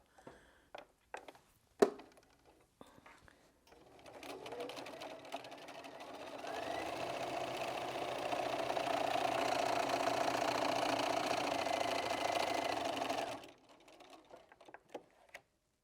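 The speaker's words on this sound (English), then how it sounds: "we're sewing through 2 layers of fabric and the wadding" A sewing machine fitted with a walking foot stitches through two layers of fabric with wadding between them. A steady mechanical whir runs for several seconds, preceded and followed by scattered handling clicks and taps.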